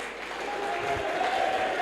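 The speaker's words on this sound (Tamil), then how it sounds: "கைத்தட்டலாமே பலமா." An audience at a Tamil public address claps loudly in a dense, steady burst of applause that fills the short stretch without pause.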